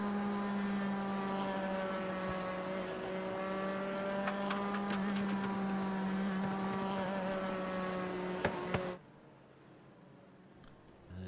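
A pack of nine LMP2 prototype race cars in the iRacing sim at Laguna Seca drone past with layered high engine whines that shift in pitch, then cut abruptly to near silence with a few faint clicks.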